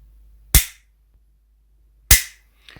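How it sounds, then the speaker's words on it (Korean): A vintage cap gun fires two sharp, loud cracks about a second and a half apart, each with a short decaying tail, the hammer striking a powder cap, with no talking. "방아쇠를 1단만 당기면 왼쪽, 2단 당기면 오른쪽 해머가 전진하면서 격발합니다."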